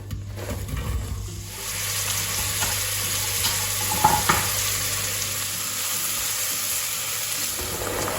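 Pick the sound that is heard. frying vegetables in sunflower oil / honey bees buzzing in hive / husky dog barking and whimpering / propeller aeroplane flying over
frying vegetables in sunflower oil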